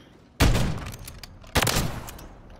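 Two sharp, loud gunshots from a video game, about a second apart, each with a booming tail that decays quickly.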